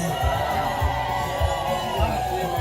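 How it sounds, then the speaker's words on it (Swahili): Women ululate in celebration at a Swahili Muslim wedding ceremony, high wavering trills rising from a crowd while low rhythmic thumps pulse steadily underneath. "Wakina mama, naomba nisikie tena vigelegele."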